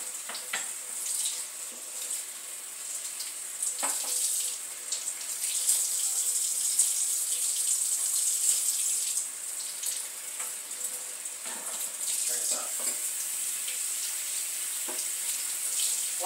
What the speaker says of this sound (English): Rinse it really good.